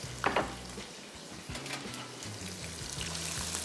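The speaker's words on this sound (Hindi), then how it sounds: "सबसे पहले प्याज शामिल कर दिया, और प्याज की फ्राइंग हो जाएगी शुरू।" Onions fry in a pan with a soft, steady sizzle, joined by faint stirring clicks and a low background tone, fairly quiet throughout.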